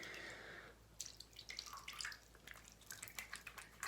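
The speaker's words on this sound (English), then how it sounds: "I'm gonna take my boiling water and start applying it." Hot water is splashed onto a face before shaving: close splashes and drips in uneven bursts, following a brief steady hiss of running water.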